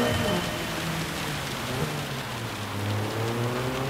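Heavy rain pours down during a wet single race at the Nürburgring in Gran Turismo 7, a constant hiss layered over the rising and falling drone of a racing car engine.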